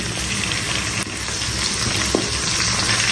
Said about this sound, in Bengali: এই পেঁয়াজটা আমি একটু হালকা বাদামি করে ভাজবো